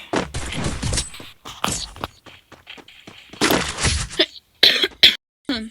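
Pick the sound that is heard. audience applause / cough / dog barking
cough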